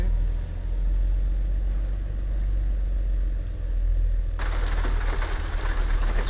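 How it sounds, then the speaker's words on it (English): Rain in American Truck Simulator, a steady wash of falling rain over a low engine rumble, growing brighter and louder near the end as the downpour intensifies. "Looks like it's raining."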